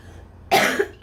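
One short, close cough rings out clearly, preceded by a quiet pause and followed by the onset of another sound.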